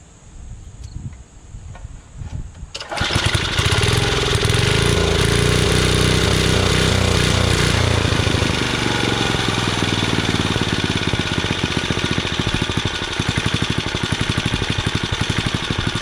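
A free Tecumseh 3.5 HP edger engine starts abruptly after a few seconds of faint background and runs loud and close, its buzzing note rising and falling as it surges, with no talking.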